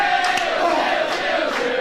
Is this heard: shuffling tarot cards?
no